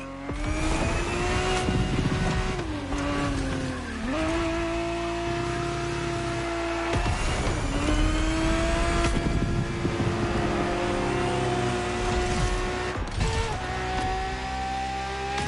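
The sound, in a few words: Ferrari 365 GTB4 engine revving in racing video game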